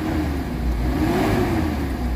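The engine of a Mitsubishi Adventure, treated with XADO after a throttle delay and low power issue, revs up and holds a strong, rising hum close to the microphone for a couple of seconds.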